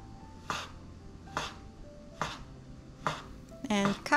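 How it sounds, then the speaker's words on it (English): Knife chopping through tightly rolled homemade egg noodle dough on a board, with four evenly spaced, crisp cuts about a second apart, followed by a brief clatter at the end. "And cut the noodles now as thin as you can using the knife"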